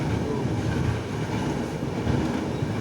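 The Purvanchal Express, on the Gorakhpur to Kolkata route, sits at platform 4 with a loud, continuous, steady rumble of railway cars and machinery close by.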